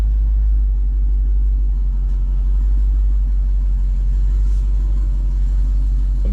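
A supercharged Dodge Hellcat, freshly repaired, sits running in a garage with a steady, loud low rumble and no revving or bursts, alone without talk.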